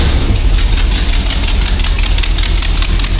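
Newly installed engine in a Jeep CJ-7 running at a steady, loud idle, a continuous low rumble with a slight knocking texture throughout and no voices.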